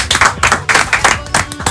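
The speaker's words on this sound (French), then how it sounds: "Si Marie-Jo applaudit, c'est que vraiment." A few hands clapping in quick, even applause during a studio talk show, several close, crisp bursts in steady rhythm with no voices over them.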